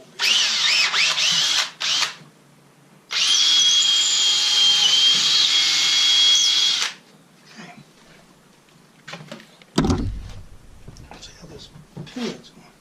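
Power drill boring a hole into a wooden chair during a repair, two sustained high whining bursts of a few seconds each, close and loud, followed by quieter handling noises and brief talk.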